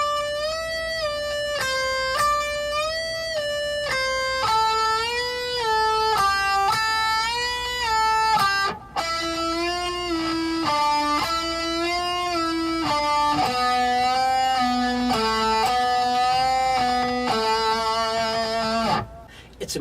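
Electric guitar phrases in which picked notes are bent up in pitch and released back down, a steady sequence of clear sustained tones with audible pitch slides, played alone and close over about twenty seconds.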